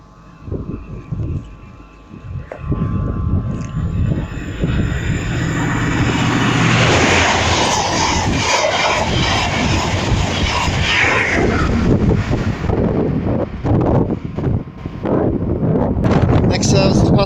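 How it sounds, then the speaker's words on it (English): An LNER HST passenger train passes through Northallerton station. Its rumble builds quickly from near silence into a loud, sustained roar of engine and wheels that fills most of the clip before easing slightly at the end. "Next service pass through is a LNER HST service to London King's Cross."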